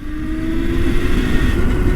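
A homemade street-legal electric motorcycle is ridden close by, giving a steady motor whine and drone that rises slightly as it picks up speed, with no talk.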